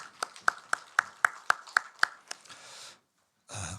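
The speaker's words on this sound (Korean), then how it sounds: "우리 다시 한번 축복의 박수 하십시다." A church congregation claps in a quick, even rhythm during a Sunday service, with about nine sharp beats in unison, then a short noisy wash before it falls quiet.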